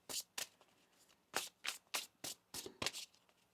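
Tarot cards riffle and shuffle in a series of crisp, papery bursts, several quick flurries separated by short pauses, close and fairly quiet.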